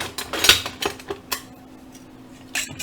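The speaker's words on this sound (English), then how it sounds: "I'm going to take and whisk these while these potatoes are cooking" Eggs whisked in a bowl with a utensil clicking against the sides in uneven bursts, close and fairly sharp, with a quieter stretch in the middle and no speech.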